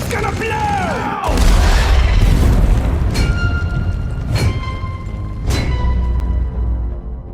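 A Deep Rock Galactic in-game explosion booms loudly at about one second, then rumbles on with a few sharp bursts and whooshes behind chaotic combat noise.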